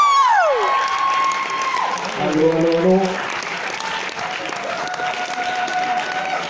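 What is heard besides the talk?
audience applause and cheering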